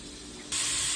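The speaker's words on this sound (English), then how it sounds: "Oh, it sizzled." Bulgogi hits a hot pan and bursts into a loud, steady sizzle that starts abruptly and continues close up without talk.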